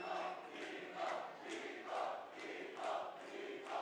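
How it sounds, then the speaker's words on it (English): A crowd at a Mortal Kombat 1 fighting-game tournament chants a name in a steady rhythmic pattern, heard faintly from a distance with four or five evenly spaced swells. "There's some Nico chants in the crowd if you guys can hear."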